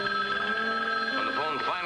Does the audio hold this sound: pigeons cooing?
no